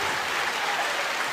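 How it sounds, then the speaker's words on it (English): Steady crowd applause and clapping fills a high school volleyball gym during a Husky match against the Cheylin Cougars, a dense even wash of hands with no break. "Crowd noise, applause, clapping."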